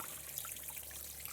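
Water rushes and trickles from a small fountain into an outdoor turtle pond, a soft continuous splashing hiss heard faintly from close by.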